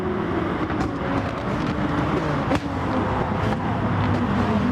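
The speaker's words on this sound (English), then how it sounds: "off we go in my beautiful matte green, Ken Chandeli inspired Porsche 911" A matte green Porsche 911 race car in Gran Turismo Sport drones steadily at high revs, a continuous engine roar with a faint shift or bump midway, heard alone without talk.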